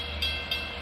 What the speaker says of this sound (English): Long Island Rail Road Train 2733 at Speonk